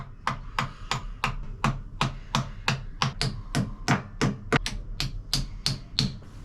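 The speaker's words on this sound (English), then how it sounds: "Get the rest of your rollies and tap them in." Wall plugs being tapped into drilled holes with a hammer while fitting a grab rail: a steady run of about eighteen sharp, evenly spaced knocks, close and crisp, with no talking.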